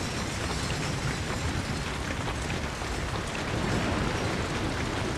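Steady, dense rain pours down without pause in a video game, a loud broadband hiss filling the whole clip with no voices.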